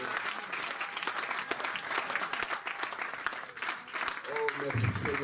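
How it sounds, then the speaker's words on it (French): A church congregation applauds loudly and steadily in a sustained wave of clapping, with voices mixed in and a brief vocal cheer near the end. "Acclamez très fort pour le roi."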